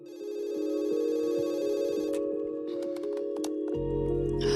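A telephone rings in a French-dubbed true-crime documentary, a steady electronic trill that continues under low sustained background music and faint ticking.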